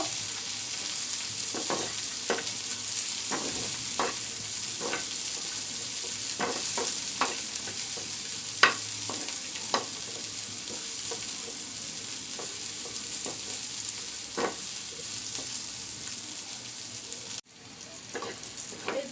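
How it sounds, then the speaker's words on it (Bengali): Onion, garlic and dried chillies fry in a pan for an eggplant and bitter gourd vorta, a steady close sizzle with scattered crackles and pops throughout, briefly cut near the end before resuming. "সাথে মরিচ আর মরিচ আর শুকনো মরিচগুলো বেজে নিব"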